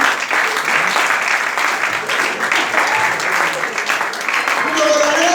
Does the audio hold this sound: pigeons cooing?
no